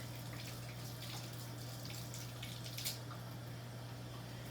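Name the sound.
water running from a tap while washing hands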